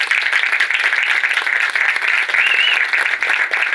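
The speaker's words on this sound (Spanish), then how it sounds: "Eso es para aplaudir." Sustained applause from a seated audience at a political event on travesticide and transfemicide in Argentina, dense steady clapping filling the room for several seconds without pause.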